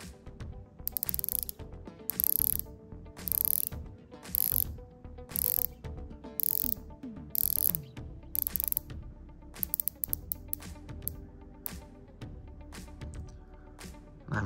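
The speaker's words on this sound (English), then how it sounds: "So this bezel is a 120 click unidirectional bezel. So let's check out the bezel action right now." A Rolex Submariner 126610LV unidirectional 120-click bezel turns in a run of crisp, fine ratcheting clicks. The clicks come in short bursts with brief pauses between them, close up and quiet, with no talk.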